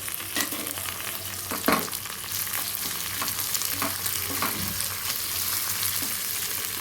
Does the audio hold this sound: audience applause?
no